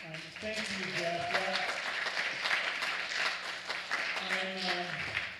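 An audience claps at a live music show, steady applause filling the room while a voice talks over it.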